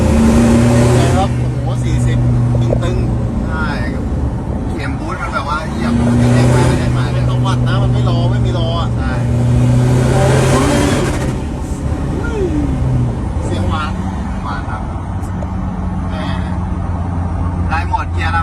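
A Mitsubishi Triton pickup with a turbocharged engine revs and accelerates through repeated pulls, the engine drone rising under turbo boost, with people talking over it throughout.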